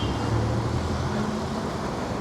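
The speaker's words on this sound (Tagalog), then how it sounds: "Yung daan dito. Traffic ka masyado, makikita nyo." Road traffic near a construction zone makes a steady, loud rumble of engines and passing vehicles with a low droning hum underneath, continuous and unbroken.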